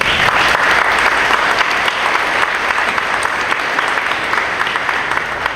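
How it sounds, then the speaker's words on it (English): Loud, sustained applause from a crowd at a middle school ribbon cutting, dense clapping filling the whole stretch without pause. "I want to give a round of applause"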